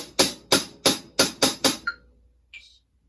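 Six evenly spaced sharp drum strokes in a triplet figure, close and loud, then a short pause and one fainter high tap after the last decays, played alone with no talk.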